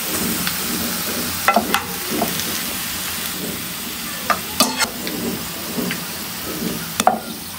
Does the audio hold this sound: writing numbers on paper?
no